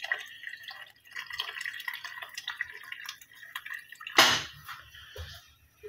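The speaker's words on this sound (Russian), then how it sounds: "И оставшуюся часть заливаем просто теплой водичкой." Warm water is poured into a pot of stuffed peppers cooked in tomato juice, a close, uneven trickle and splash with bubbling drips and one louder gush near the end.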